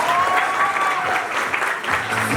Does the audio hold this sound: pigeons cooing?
no